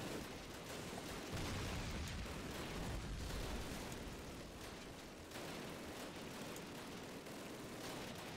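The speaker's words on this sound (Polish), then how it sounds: "No proszę, wybuchł nam tutaj granat." Loud, sustained roar of combat in Call of Duty, with a grenade blast swelling at the start amid ongoing gunfire and rumbling explosions that continue steadily throughout.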